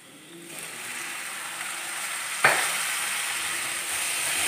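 Chicken gravy masala with its spice powders sizzles and fries steadily in a pan just after a tablespoon of water is added, with a sharp splash-like burst partway through and a constant hiss otherwise, no talk.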